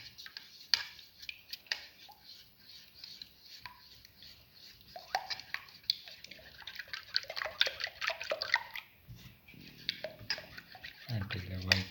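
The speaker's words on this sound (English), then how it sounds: "the white and the yellow portion of the egg is nicely mixed with the salt" Eggs are beaten with salt in a bowl, making quick, soft clicking and sloshing strokes that repeat irregularly, fairly faint and close, with a heavier swirl near the end.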